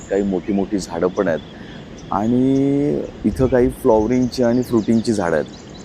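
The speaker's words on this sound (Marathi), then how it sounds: "त्याच्यावरती पक्ष्यांचा एवढा किलबिलाट सुरू आहे." Birds such as red-whiskered and yellow-browed bulbuls chirp in forest trees near a river at Kumbhavade, with bright, scattered calls under someone talking close by.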